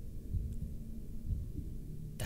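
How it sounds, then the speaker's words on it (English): Heartbeat effect in the horror game Bendy and the Ink Machine, low muffled thumps pulsing at a steady slow pace over a dark humming ambience, without speech. "That heartbeat is not cool."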